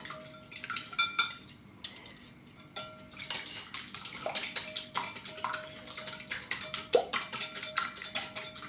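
Whisking a mixture with panela in a bowl, a rapid run of light clinking and tapping strokes as the utensil hits the sides, close and steady throughout with brief pauses, no talking.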